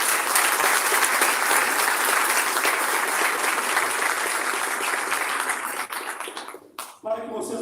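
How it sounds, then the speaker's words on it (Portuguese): Sustained applause from a ceremony audience marking the 75th anniversary of the Carta de Santa Maria, dense and steady for about seven seconds before cutting off abruptly, followed by a brief quieter patter. "Mais uma vez, uma salva de palmas."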